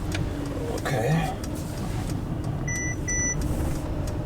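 A Mercedes Sprinter van's dashboard warning chimes sound as two short electronic beeps over steady road and engine rumble while driving, with people talking in the cabin.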